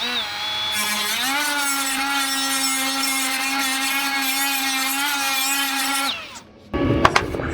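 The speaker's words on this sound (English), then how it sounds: "I got a little grinder here, the little flap disc." A small angle grinder fitted with a flap disc grinds down a weld bead, giving a loud, steady whine for about six seconds before it spins down. A short clatter of handling follows, with no talking.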